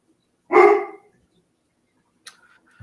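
A dog gives a single loud, close bark, with a faint brief sound following a couple of seconds later.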